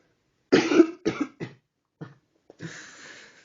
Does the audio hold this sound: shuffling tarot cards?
no